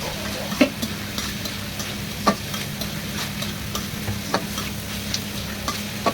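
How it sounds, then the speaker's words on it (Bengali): Chopped banana stem (thor) is stirred and fried in a pan until its released water cooks off. A constant hiss runs under regular spatula knocks against the pan, with no talking. "থোড়টাকে এভাবে নেড়ে চেড়ে ভালো করে ভেজে"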